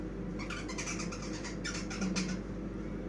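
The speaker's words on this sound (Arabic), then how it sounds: "العصافير مش مخليني عارفه اتكلم" Small birds chirp and twitter in quick, high bursts through a constant low indoor hum, in a home kitchen during Ramadan kunafa preparation, with a slightly louder cluster of calls near the end.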